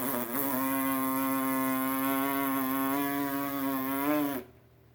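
Steady buzzing made by vibrating lips, a bright brassy drone held for about four seconds before cutting off abruptly, imitating a shofar blast.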